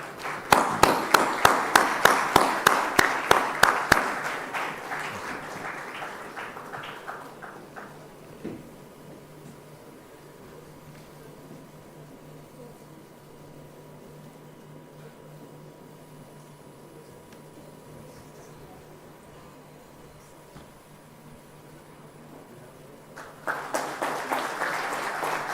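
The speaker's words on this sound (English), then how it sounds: "Ladies and gentlemen, a big round of applause for our winners" An audience at a conference plenary claps for award winners: loud, rhythmic group clapping at the start, a long quiet stretch of room hum, then clapping resumes near the end.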